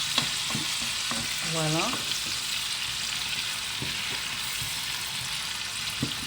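Onions added to a pan of frying pork ribs sizzle steadily, with stirring scrapes and light utensil knocks over the constant hiss; a voice speaks briefly near the start.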